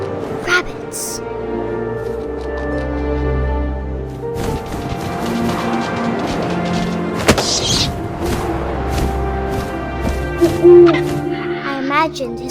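Game audio from What Remains of Edith Finch in which an owl hoots over a steady bed of wind and layered music, with a low rumbling swell in the middle and brief tonal calls near the end.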